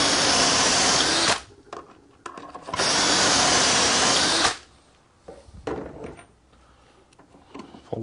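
Two loud, sustained bursts of a power drill boring dowel holes through a Dowelmax jig, each lasting over a second, separated by quiet handling clunks, with a few more clicks and taps afterward.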